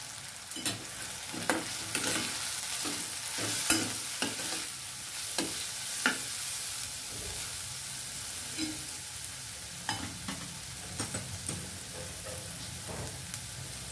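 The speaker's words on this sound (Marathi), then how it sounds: "छान हलवून घ्यायचे।" Spices including turmeric, garam masala, mutton masala and red chili powder fry in a pan, a soft constant sizzle punctuated by irregular scrapes and knocks of a spoon stirring, quiet and close with no talking.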